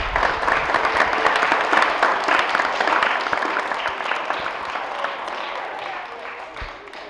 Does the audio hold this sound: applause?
yes